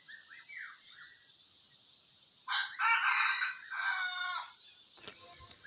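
A young rooster crows once in a rural outdoor area, loud and close, over a steady background hum of insects, with a few softer bird calls before it.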